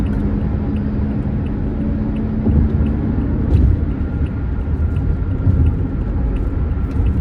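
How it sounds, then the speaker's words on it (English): A truck's steady low rumble passes close by in traffic for several seconds, with a slight swell midway and no talking. "This must be from this truck."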